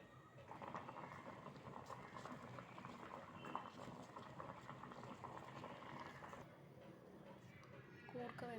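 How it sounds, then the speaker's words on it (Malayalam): Koorka (Chinese potatoes) boiling in salted water in a pot on a home stove, giving a steady, dense bubbling and simmering hiss that runs unbroken throughout, with occasional soft pops. "നമ്മൾ ഈ കൂർക്ക വേവിക്കാൻ പോവാണ്. വെള്ളത്തിലിട്ട് ഉപ്പിട്ട് വേവിക്കാൻ പോവാണ്."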